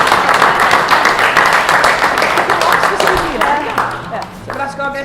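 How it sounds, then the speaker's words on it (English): Wedding guests give a loud, dense round of applause that carries on steadily, then thins and tapers off toward the end while other sounds emerge. "I think we need a big round of applause for our guests"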